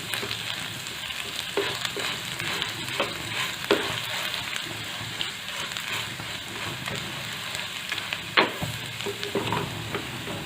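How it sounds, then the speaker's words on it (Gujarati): Crushed garlic and chili stir and fry in a pan over a low flame for garlic chutney, a steady close sizzle broken by scattered scraping stir sounds, with no talking. "તેની અંદર આપણે જે વાટેલું લસણ મરચું છે તે ઉમેરી દેવું અને તેને સરસ મિક્સ કરી લેવું"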